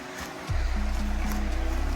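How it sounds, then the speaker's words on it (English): Small creek flowing along the Appalachian Trail, a steady close rush of water that swells up and then holds a continuous loud burble and gurgle. "Heading down to the little creek."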